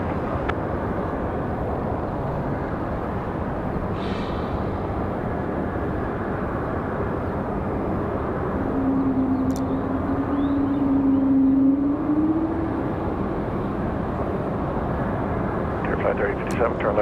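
At Raleigh-Durham International, an airliner, flight Moxie 755, takes off from runway 23 left with a steady, broad engine roar that swells slightly midway, while air traffic control radio chatter plays over it.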